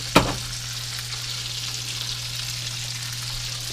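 Steak tips sauté in a pan with a steady, close sizzle that holds evenly throughout, opened by a brief clatter at the very start.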